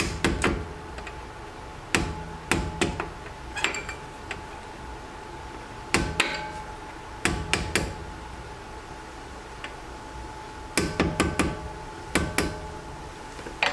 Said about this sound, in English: So, start by knocking back this pin.